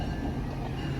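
A train rolling on rails during a railroad museum ride, a steady low rumble with no distinct clicks over the short stretch.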